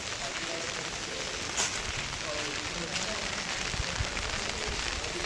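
Steady rain falling around midday, a dense, even hiss of drops pattering on surfaces that holds constant throughout, with no clear voices over it.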